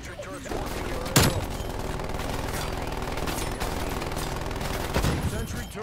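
Hostile sentry turrets fire sustained automatic bursts in the Call of Duty Cold War video game, a dense rattle of gunfire with a couple of louder shots standing out and game voices talking over it.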